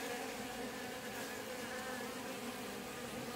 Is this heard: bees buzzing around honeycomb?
yes